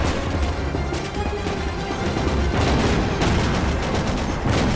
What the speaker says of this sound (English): This artillery just right over here, shelling down.